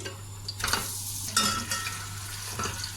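A spoon stirring and breaking up colostrum in lightly heated ghee with cardamom, soft sizzling under a steady low hum, with a few quiet scraping clinks against the pan.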